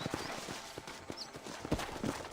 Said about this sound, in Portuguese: Cadê meu cavalo?